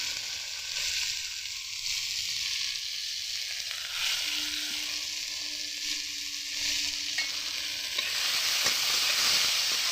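Tomato sizzling steadily in an oily pan while being stirred, with scraping of the utensil against the pan over a continuous frying hiss and no talking.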